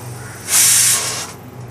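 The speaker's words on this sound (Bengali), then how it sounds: "প্রেসারের সেকেন্ড সিটি দিয়েছি।" A pressure cooker gives its second whistle while mutton curry cooks: one sharp, loud burst of hissing steam lasting under a second before it drops back to a quieter background.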